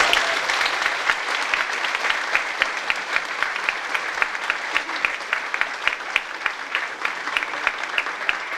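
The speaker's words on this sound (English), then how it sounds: "would you give them a warm round of applause?" Studio audience applauding a band at the close of a televised music show, steady dense clapping from a crowd that holds evenly throughout with no music or talk.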